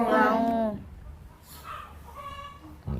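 A rooster crows loudly and close, then quieter clucking and fowl calls follow in the background while someone talks.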